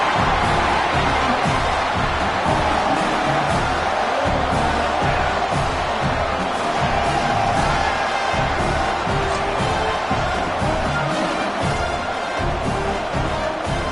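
Dense, steady roar of a huge stadium crowd cheering and yelling at a college football video game matchup, Texas A&M against South Carolina, loud and unbroken throughout before a field goal attempt.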